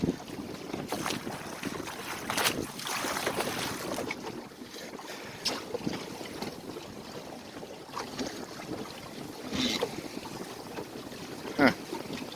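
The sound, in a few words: wind while sailing a small boat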